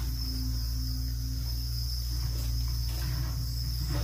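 Crickets kept in a cricket farming pen chirp in a steady, continuous high trill that holds at an even level throughout, with a low hum underneath and no voices.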